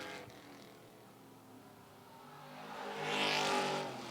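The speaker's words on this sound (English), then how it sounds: "Now the 10 of McGee starts to pull away" A race car pulls away at Mt. Lawn Speedway, its engine a distant whir that builds into a louder rising roar near the end as it accelerates past, with no talking.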